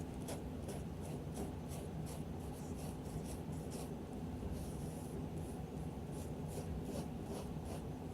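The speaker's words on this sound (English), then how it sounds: "I keep drawing this line here dark." Pencil drawing dark lines on paper while sketching a face: a steady, close scratchy rubbing in repeated strokes that runs throughout, with no voices.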